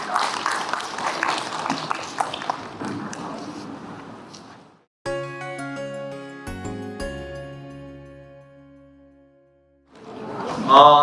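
Applause from an audience at a citizen climate participation group launch ceremony, a burst of clapping for the first few seconds that fades out, followed by a stretch of tonal music and then a brief swell of clapping at the end.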